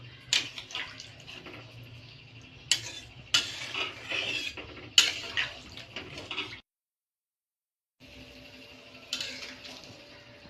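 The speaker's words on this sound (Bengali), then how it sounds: "আমি এখানে রুম টেম্পারেচারে জলই দিচ্ছি, গরম জল দিচ্ছি না" Room-temperature water is poured into a pan of pabda fish curry with potato and eggplant, giving a few seconds of splashing and clinking, then a silent pause before the pouring resumes more softly.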